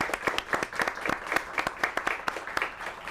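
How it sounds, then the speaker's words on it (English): A studio audience at a talk show claps, the individual hand claps distinct and sharp in an uneven rhythm, fairly small group and moderately quiet. "Give yourself a round of applause."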